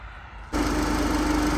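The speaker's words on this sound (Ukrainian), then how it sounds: "Ось так працює двигун" A Renault Koleos 2.0 diesel engine starts after a brief quiet moment, then settles into a steady, even idle with a low rumble and a faint whine.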